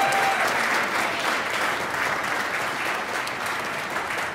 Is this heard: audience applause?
yes